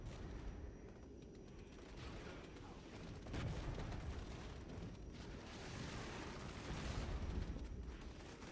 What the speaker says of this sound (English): Good little cluster strike.